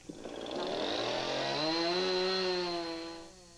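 A chainsaw revs up and bites into wood, its engine whine rising and holding steady before easing off, fairly close and without any talking.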